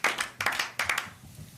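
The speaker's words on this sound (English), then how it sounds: "Round of applause for Frank" Several short bursts of hand clapping ring out at a Laver Cup 2023 press conference, a few people applauding briefly at moderate volume before fading out.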